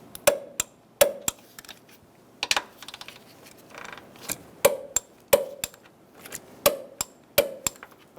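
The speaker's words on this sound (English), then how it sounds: "We're going to use a 13 millimeter socket. and torque our upper strut mounting nuts to 26 foot-pounds." A 13 mm socket torques the upper strut mounting nuts on a 2000-2007 Ford Taurus front strut assembly, giving crisp metallic clicks in short bursts and pairs, close and loud, with no talking.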